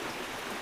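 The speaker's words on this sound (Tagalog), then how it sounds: "Biglang bumuhos ang ulan ngayon." Sudden heavy downpour of rain, a dense, loud, steady hiss of pouring water with no pauses.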